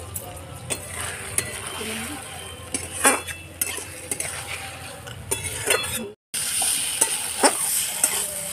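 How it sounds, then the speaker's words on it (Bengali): Potatoes and spices with salt and turmeric stir-fry in a pan for a home-style paneer curry, with steady sizzling, a metal spoon repeatedly scraping and clinking against the pan, and a brief silent gap near the end. "মশলার সাথে ভালো করে কষিয়ে নেব"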